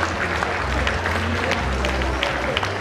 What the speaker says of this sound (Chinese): 现场朋友热烈掌声一下